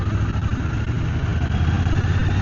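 Triumph Scrambler 1200 X motorcycle engine and exhaust running steadily near at hand, a continuous low rumbling drone with no speech.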